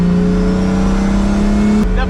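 Pagani Huayra Roadster BC engine roaring loud and close with a steady high-revving drone, then a quick crackle of pops as the note drops at the end.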